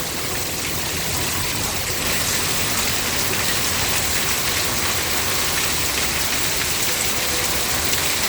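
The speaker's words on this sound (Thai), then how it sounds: "ทั้งลมทั้งฝนนะครับพี่น้อง" Heavy monsoon rain pours steadily in Pattani, southern Thailand, with strong wind, a dense, constant roar of rainfall close by with no talk and no letup.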